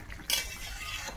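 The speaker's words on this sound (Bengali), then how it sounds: "আর একটু নেড়ে ছেড়ে" Curry of green banana and bhetki fish being stirred in a pan, a brief scraping clink of a utensil against metal standing out from a low steady sizzle, close and fairly quiet.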